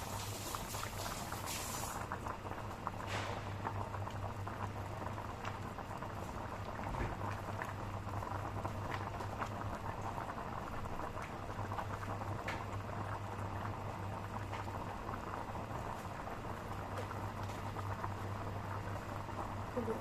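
Tinolang isda, a Filipino fish soup, bubbling steadily in a pot with a soft, continuous patter of boiling liquid and a low hum underneath, close and even throughout.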